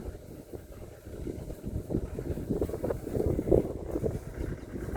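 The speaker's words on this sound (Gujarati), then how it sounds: "જો કેટલો બધો પવન ચાલુ છે." Strong wind blows across an open farm field during sowing, a continuous rumbling buffet against the microphone that gusts louder midway, with no talking.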